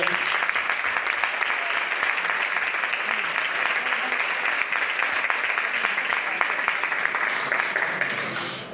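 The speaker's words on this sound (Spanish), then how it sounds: "ellas se merecen este aplauso" Sustained applause from the audience at a women entrepreneurs' awards ceremony, dense and steady throughout, with faint crowd murmur underneath.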